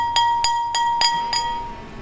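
An unglazed fired stoneware tea bowl tapped five times at an even pace, each tap ringing with a bright, glassy clink and a short sustain.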